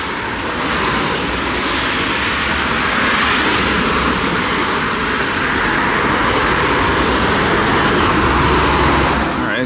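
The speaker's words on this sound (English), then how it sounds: "this is our neighborhood train station, so this is how we've been getting around." Berlin U-Bahn train at a neighborhood station, a loud steady rumble of rolling carriages and track noise filling the whole stretch, close by with no talk over it.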